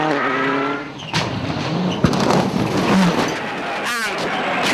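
A small Toyota rally car charges along a rally stage, its engine revving hard with sharp gear changes and a bang. A co-driver's pace-note voice and a commentator talk over it.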